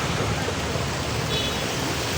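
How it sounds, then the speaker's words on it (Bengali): Floodwater surging and lapping in waves, a steady broadband wash of moving water that fills the whole moment without any voices. "পানির ঢেউ আর পানির অবস্থা।"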